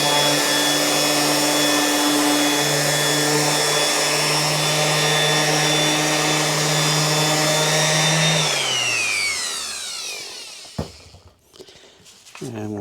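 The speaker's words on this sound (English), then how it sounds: "320 on the orbital sander." An orbital sander with 320-grit paper works over broken particle board used in RV furniture, a loud steady whine with a low hum that runs continuously, then spins down and stops, followed by a couple of small knocks.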